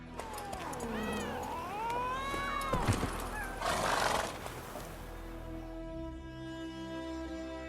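Roach, Geralt's horse in The Witcher 3: Wild Hunt, lets out a loud, wavering neigh with snorting breaths over the first few seconds, then game ambience and a low musical drone carry on.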